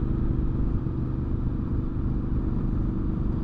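Triumph Scrambler 900 motorcycle engine pulling steadily during a ride, a loud, close, continuous low rumble with even throb and wind, no talking.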